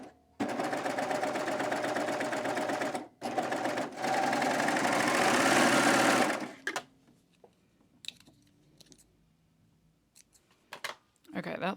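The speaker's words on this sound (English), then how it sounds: "I am using a 3-thread narrow overlock to finish this" A 3-thread narrow overlock serger runs fast and loud, finishing the outside edge of a dress with lightweight interfacing, in two long bursts split by a brief pause, then stops, leaving scattered quiet handling sounds.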